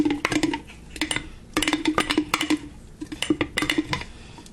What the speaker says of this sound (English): Stir it really good.